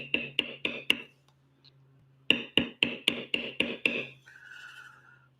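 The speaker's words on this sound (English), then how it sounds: "I'm gonna bevel a lot harder as I get up here once again where it's just over the background of the" A bevel tool is struck on tooled leather: two runs of sharp, evenly spaced taps, four then seven, close and crisp, with a short pause between them.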